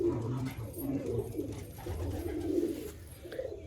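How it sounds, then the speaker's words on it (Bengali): Pigeons cooing at a bird sale near a rail station, repeated low throaty coos rolling in overlapping phrases, close and fairly loud, with no talk. "দেখলেই বুঝতে পারবেন কত সুন্দর পায়রা"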